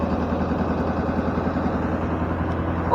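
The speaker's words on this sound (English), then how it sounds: "Why are you idling down?" A Ford F600 truck engine idles down close by with a steady, low, rough rumble and a slightly uneven pulse, with no talking.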